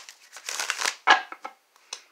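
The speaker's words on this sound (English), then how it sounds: "I love the way these shuffle better." Tarot cards being shuffled by hand, a run of papery riffling and crinkling bursts followed by a few brief, separate card slaps, close and fairly quiet.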